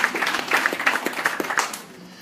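An audience at a community gathering in San Fernando claps for a couple of seconds in scattered, moderately loud bursts that taper off toward the end.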